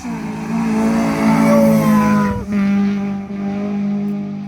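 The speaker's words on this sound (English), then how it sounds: "This one's got a great flutter on it. Someone's giving it the beam. It's the Civic." A Honda Civic accelerates hard up a hill road. Its loud, close engine climbs steadily in pitch, dips briefly midway, then pulls on again.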